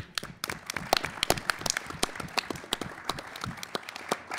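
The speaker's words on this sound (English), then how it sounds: "Let's have a special round of applause for the Bob Bullock Texas State History Museum." A round of applause from the audience at a Texas middle-school quiz show semifinal, heard as crisp, scattered individual claps forming a steady, moderately loud patter throughout.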